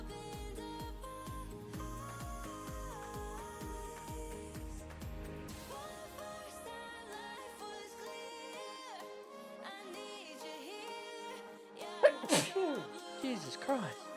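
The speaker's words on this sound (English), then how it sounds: "I always sneeze when I'm streaming." One abrupt sneeze bursts out near the end, loud against quieter background music that plays throughout.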